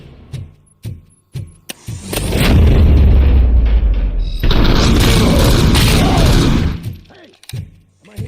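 Gunfire and blasts from the video game RoboCop: Rogue City, a loud sustained burst of shots and booms filling the middle of the clip, framed by sparser sharp cracks before and after.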